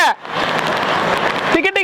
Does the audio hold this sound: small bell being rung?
no